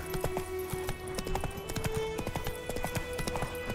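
A horse gallops steadily through The Witcher 3 while the player rides, its hooves producing a continuous, close, rhythmic clip-clop that carries throughout.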